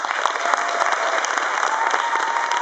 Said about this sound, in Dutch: een heel hartelijk applaus wil vragen voor de mensen van de Brede School